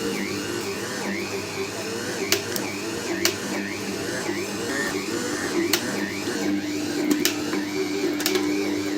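A Kerch dough mixer runs steadily with a continuous mechanical whir and faint periodic clicks, close and moderately loud throughout.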